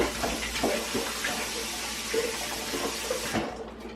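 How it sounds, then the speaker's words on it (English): Tap water runs steadily into a kitchen sink as hands are rinsed off, a continuous close splashing hiss that lasts nearly the whole stretch and then cuts off. "Rinse my hands off real quick."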